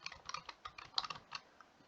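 Web address being keyed into a computer keyboard: a quick, uneven run of soft, close key clicks with short pauses, faint and dry, no voices.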